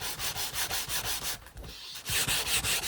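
Folded sandpaper rubbed on wood at the edge of a workbench while building a cigar box guitar, a close, rhythmic series of rasping back-and-forth strokes with a short pause midway.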